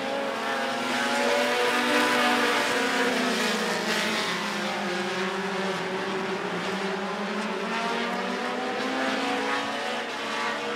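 Short track race cars circle Rockford Speedway in an American Short Trackers heat, several engines blending into a continuous loud roar with pitches rising and falling as cars pass.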